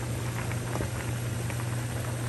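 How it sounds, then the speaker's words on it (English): Noodles boil hard in a pot of water. The bubbling and popping roll on loud and close, over a steady low hum from the stove. "We got the noodles boiling up in this jar"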